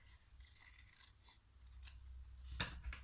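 Scissors snip through a folded paper map for a recycled Valentine's card, a few quiet, crisp cuts and paper rustles heard up close with no talking.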